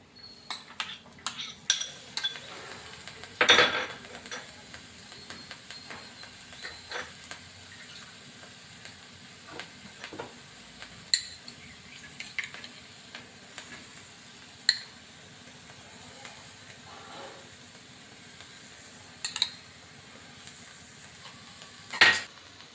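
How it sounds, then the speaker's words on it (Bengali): Fried carrot halwa tossed with cashews and raisins in a pan: a soft sizzle under intermittent scraping and metallic clinks of the spoon against the vessel, with several louder knocks spread across the stretch and no talk. "এবার আমি এক এক করে সব কাজু কিশমিশগুলো মিশিয়ে নিচ্ছি।"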